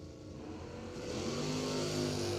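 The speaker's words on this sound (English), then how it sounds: "Danny Dowd, 743 of the 1984 Olds against Frank Ferrari." A 1984 Oldsmobile and a 1969 Pontiac Firebird at a drag race show up as a rising engine roar as the cars pull away, heard at a distance and building steadily over a couple of seconds.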